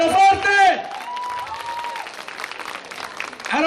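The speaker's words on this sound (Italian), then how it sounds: "Un applauso al comitato festa, bello forte!" Audience applause for a festival committee at an outdoor Italian town festa, a steady mass of clapping filling the clip after a brief loud voice at the start, with the announcer's voice returning at the end.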